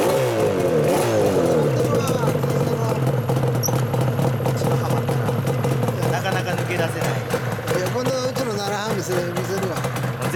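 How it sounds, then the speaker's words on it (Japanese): A Yamaha R1-Z two-stroke motorcycle engine with a SPEX expansion chamber exhaust idles and revs up and down in repeated bursts, close and loud, with people talking over it. "エンジンかけて"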